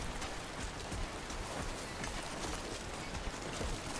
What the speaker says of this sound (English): The rain seems to be letting up.